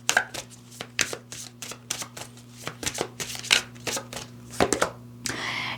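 Tarot cards being shuffled and drawn during a Leo 2025 reading, a rapid run of crisp riffling flicks and slaps close to the mic, ending in a longer soft sliding rustle, with a steady low electrical hum underneath.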